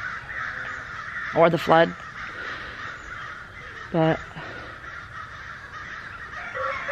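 Several crows caw in two short bursts: a quick double or triple caw near the start and a single harsher caw a few seconds later. The calls are clear over steady outdoor background noise, and a person talks quietly between them.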